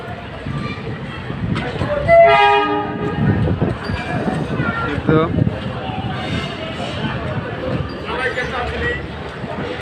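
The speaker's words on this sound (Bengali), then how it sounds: "হয়তো বা দেখতে পাবেন, ট্রেনটাকে দেখানোর চেষ্টা করছি" A train from Gohonpur arrives at a Rajshahi station with a rumbling approach, and a short horn blast sounds early on. People talk nearby and the scene is fairly loud.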